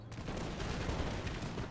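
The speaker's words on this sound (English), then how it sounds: "They killed four whole guys with a full volley." Musket volley fire in Napoleon: Total War, a dense rolling crackle of many shots blending into one sustained burst of distant gunfire.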